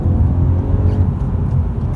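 A 2019 Honda Civic 1000 VTEC Turbo accelerating in second gear, a loud steady low engine drone heard from inside the cabin, no talking.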